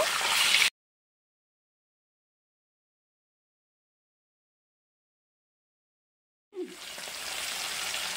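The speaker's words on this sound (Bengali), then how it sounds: "মাছগুলোকে উল্টিয়ে পাল্টিয়ে লাল লাল করে ভেজে নেব।" Rohu fish pieces frying in a hot pan give off a steady, close sizzling hiss that cuts out abruptly into silence, then returns with a brief clatter and continues sizzling.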